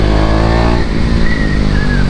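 A KTM Duke 390 motorcycle engine revs loud and close, a steady throaty roar that climbs in pitch as the throttle opens, with no talking over it.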